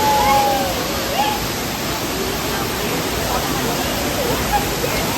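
Vibhudhi waterfall, running reddish and swollen after days of rain, pours in a loud, continuous broadband roar heard nearby, with faint voices blending into the rush.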